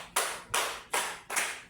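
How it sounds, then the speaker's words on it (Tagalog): A classroom of students claps in unison for a classmate, four or five sharp, evenly spaced claps in quick rhythm, loud and close, with no talking. "Bigyan natin ng 5 palakpak si Rhea."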